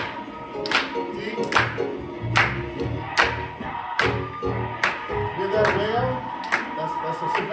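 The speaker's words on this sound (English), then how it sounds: "Come on, put your hands together." Members of a Black church congregation clap their hands in a steady rhythm, about one clap per beat. The claps are loud and close, mixed with music and singing throughout.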